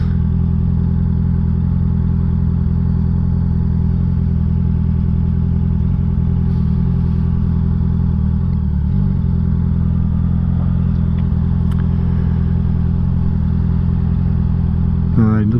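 A motorcycle engine runs steadily throughout, a loud constant low hum and throb with faint clatter, heard close without rising or falling.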